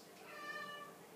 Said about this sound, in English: Sorry about my cat there.